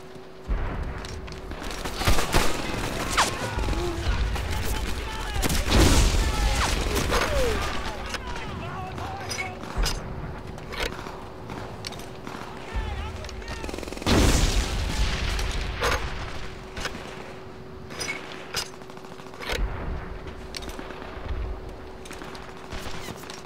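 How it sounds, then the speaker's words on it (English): An MG42 machine gun fires in the World War II shooter Medal of Honor: Airborne, with heavy booming bursts and rattling volleys that come and go amid other battle noise, while someone talks intermittently over it. "No, that's an MG42."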